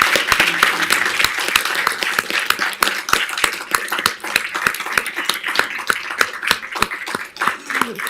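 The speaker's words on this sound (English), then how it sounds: "Please give them a round of applause and a standing ovation." Audience at a city council meeting claps through a standing ovation, close, sharp individual claps standing out over a fuller background of applause, steady throughout with little talk.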